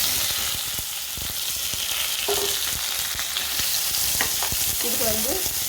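Curry leaves and chopped onion frying and being stirred in a hot pan, a steady loud sizzle with occasional scrapes of the spoon, no talk.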